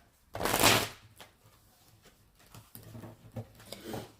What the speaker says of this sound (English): The cards just don't want to shuffle.